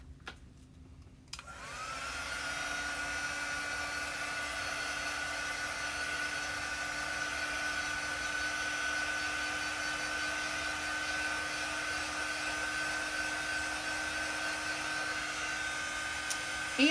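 A hair dryer dries chalk couture paste, switching on after a quiet second or so and then blowing with a steady, close, whooshing hum for the rest of the fifteen seconds, alone without talk.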